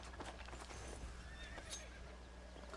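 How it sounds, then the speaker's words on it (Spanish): A horse in Red Dead Redemption on PS4 neighs and whinnies over steady in-game ambience, with faint hoof clip-clop running beneath it. "Caballo."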